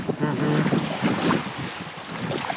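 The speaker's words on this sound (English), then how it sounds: "So there's a wind." Wind gusting against the microphone in heavy rumbling buffets near the sea in Karkinagri village on Ikaria Island, Greece, with a faint voice partly buried underneath.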